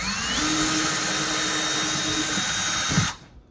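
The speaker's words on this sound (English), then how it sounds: "mark and pre-drill our holes" A power drill whines steadily at close range while pre-drilling holes in a wall cabinet, then winds down and stops near the end.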